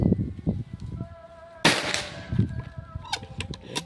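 A Pajero Gun Gen 6 air gun lets off one sharp, loud shot partway through, with someone talking quietly before and after it and a few faint clicks following.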